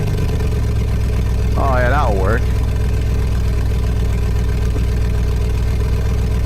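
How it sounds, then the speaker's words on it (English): A simulated car engine sound effect drones as a steady, loud, low idling rumble throughout, with a brief spoken remark over it. "Simulating a car engine."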